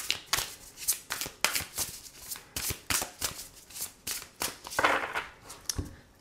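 Oracle cards are shuffled by hand in a steady run of quick papery riffles and soft slaps, close and fairly quiet, with no talking.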